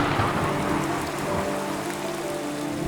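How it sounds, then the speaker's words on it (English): Heavy rain pours over a forest stream in Peninsular Malaysia, a dense unbroken hiss of drops on water and leaves with a low rushing undertone, steady and close, with no voices. "Heavy rain can send water surging through the stream"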